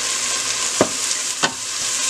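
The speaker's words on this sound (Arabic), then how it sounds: "نخلوه يتحرك شوي ويتقلى شوي" Garlic, onion and fresh red pepper frying in a pan, a steady bright sizzle with two short scrapes of stirring.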